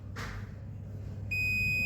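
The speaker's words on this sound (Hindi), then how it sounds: "यहाँ पे बीप दे रहा है" A multimeter's continuity tester gives a steady high-pitched electronic beep while probing the circuit board of a water-damaged Infinix Smart 9 phone, starting abruptly after a faint scrape over low background hum.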